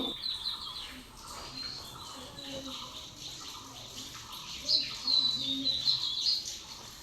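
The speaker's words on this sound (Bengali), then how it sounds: "পাখির কিচিরমিচির আওয়াজ, চারিদিকে শান্ত পরিবেশ।" Faint bird chirps and tweets scattered through a quiet morning outdoor scene, with a steady soft background hiss and a few brighter calls near the end.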